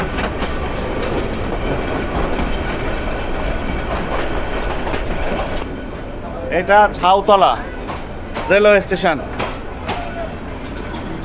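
A Nazirhat local train runs near Jhautala station, making a steady rolling rumble with two brief squealing, wavering tones near the end, while a person speaks over the noise.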